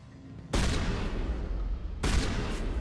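A shotgun fires twice in a video game, with two sharp, loud broadband blasts about a second and a half apart and a noisy rumble lingering between them.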